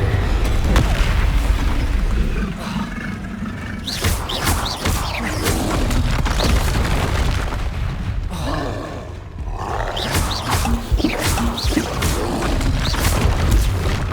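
Confringo fire spell explosions in the game Hogwarts Legacy, repeated heavy booms and rumbling blasts layered with roaring combat noise, loud and continuous.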